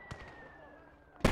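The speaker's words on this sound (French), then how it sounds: "Oh, gros boom. Je crois qu'on a eu le canon." Close, loud blast from an artillery cannon hit in a WWII strategy game, set in the German counterattack at Carentan, bursting at the very end after a faint earlier pop and a steady tone.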